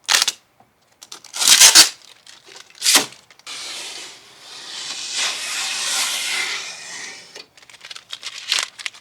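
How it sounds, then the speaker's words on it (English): Tape is ripped off a car body after speed holes are cut into it, giving several loud, sharp tearing bursts, then a longer drawn-out peeling hiss and a few shorter rips close up, with no talking. "Yank all this tape off of here."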